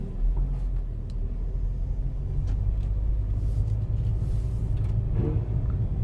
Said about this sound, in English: When I start the car and I go forward now, listen.